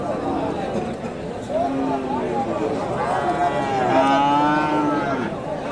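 A Friesian calf at a busy cattle market moos in several drawn-out, rising calls, close by, while people talk over the surrounding crowd noise.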